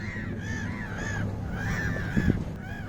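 Crows caw repeatedly in the distance over a low outdoor hum at a lakeside port in Sirmione, Lake Garda, their harsh calls rising and falling across a few seconds.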